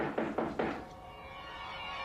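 Three firm knocks land on a door in quick succession, close and solid, followed by a quiet room tone with no voices.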